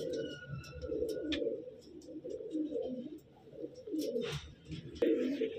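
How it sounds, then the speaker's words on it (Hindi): Purebred pigeons coo steadily and close by in a Delhi loft, a soft, throaty murmur from several birds that rises and falls, with a few faint chirps and a brief rustle. "कबूतर आ चुके हैं प्योर उस्ताद अड़े कबूतर।"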